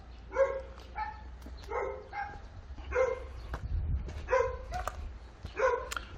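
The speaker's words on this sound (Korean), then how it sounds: "자, 옆에 강아지가 또 짖고 있습니다." A dog barks near an outdoor historic site in Gimhae, Korea, six short rhythmic bursts of a couple of barks each, fairly loud over a low background rumble.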